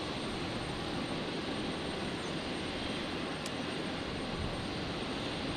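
A jet airliner taking off from a runway at Brisbane International Airport on a stormy night, a faint, steady distant roar of engines with a broad rushing wash, no speech.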